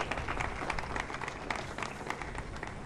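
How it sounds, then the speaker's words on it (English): Audience applause at a World AIDS Day event in Lusaka, Zambia, following a provincial minister's remarks; a dense, steady patter of many hands clapping, moderately faint and continuous throughout. "Let's give her another round of applause."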